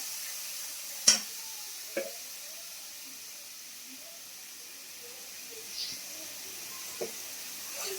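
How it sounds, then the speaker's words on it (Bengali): Green chillies, garlic and turmeric frying in hot oil, a soft even sizzle and hiss throughout, with a few sharp clinks of a spatula on the pan. "তেলটা গরম হয়ে গেছে। লঙ্কা, কাঁচা লঙ্কা আর রসুন দিয়ে দিলাম, আর একটু হলুদ দিয়ে দিলাম।"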